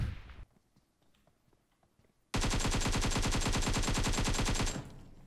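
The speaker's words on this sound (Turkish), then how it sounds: "Derken biri bana sıktı." A long, rapid burst of automatic gunfire in PUBG Mobile, loud and close, with evenly spaced shots for about two and a half seconds after a quiet stretch with faint game sounds.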